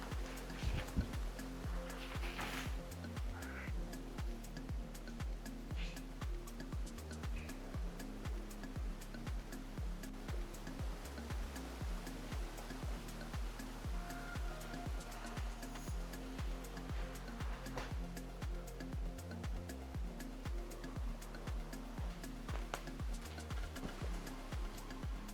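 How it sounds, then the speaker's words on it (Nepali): Heavy rain pours through a forest as a faint, unbroken hiss of water that holds steady from start to finish, with no voices. "अहिले चाहिँ पानी एकदमै परिरहेको छ हैन"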